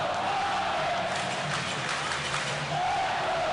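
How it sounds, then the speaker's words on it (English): Hockey crowd at the Utica arena keeps up steady applause and cheering after Game 5 of the Calder Cup Final, a broad continuous roar filling the space with faint voices mixed in. "the crowd here in Utica still paying tribute to the guys in white"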